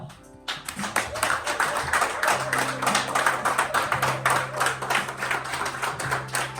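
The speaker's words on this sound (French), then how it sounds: "J'aimerais tous ensemble qu'on puisse applaudir pour le directeur Joël." A conference audience in Côte d'Ivoire claps steadily together, dense and continuous for several seconds, with a low steady hum underneath.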